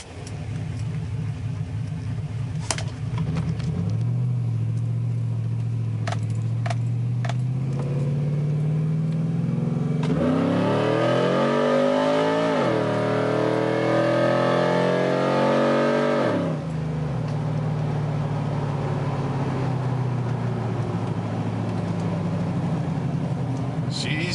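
Car engine fitted with a new aftermarket exhaust, idling loudly then revving hard in a long rising and falling burst before settling back to a steady rumble, recorded up close.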